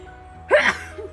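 A single short sneeze bursts out nearby, sharp and brief, followed by a faint breathy sound against a quiet background.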